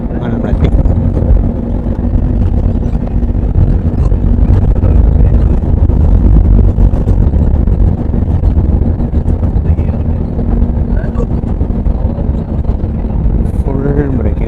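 An Air India Airbus A321neo rolls out after touchdown under full braking and reverse thrust, a broad, loud rumble and roar heard from the cabin that eases slightly toward the end while a voice talks over it.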